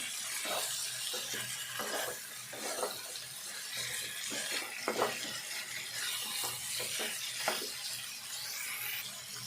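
Spices fry in a pan for a Telangana chicken curry, with steady close sizzling and frying under repeated stirring scrapes that come in an uneven rhythm; no voices.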